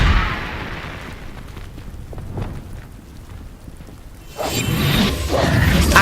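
A Confringo fire explosion spell cast in the Hogwarts Legacy video game: a whooshing fiery burst fading into rumble, then a louder blast with crackling debris swelling up near the end.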